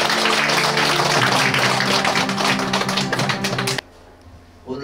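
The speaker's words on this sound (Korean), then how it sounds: "박수!" An audience at a temple groundbreaking ceremony applauds, a dense, close burst of many hands clapping that stops abruptly, then a brief quiet before a faint resumption.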